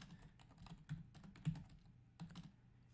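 A command is typed on a computer keyboard: a quiet run of quick, irregular key clicks close by, with a few slightly firmer presses standing out and no talking.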